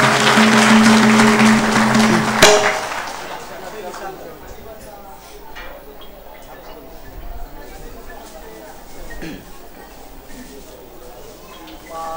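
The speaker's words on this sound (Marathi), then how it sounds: "यांना आणि यांच्या कुटुंबियांना दत्त महाराज सुखाने समृद्धी असं टाळ्या वाजून आशीर्वाद द्यायचा" Clapping erupts from the audience at a Datta temple discourse as a blessing, a loud burst of many hands under a speaking voice, ending sharply after about two seconds and leaving quieter crowd murmur.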